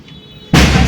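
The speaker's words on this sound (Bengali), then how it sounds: "রাস্তা দিয়ে মানে লরি যাচ্ছিল, এমনভাবে বাস্ট হলো লরির চাকাটা, রাস্তার মাঝখানে বাস্ট হয়েছে।" A lorry tyre bursts in the middle of a road: one sudden, loud, full-bodied bang that cuts sharply into near-quiet.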